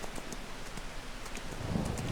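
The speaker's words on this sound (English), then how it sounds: "It is unfortunate that it's raining." Steady rain falling in Farming Simulator 25, a dense continuous patter with scattered droplet ticks and a low rumble swelling near the end.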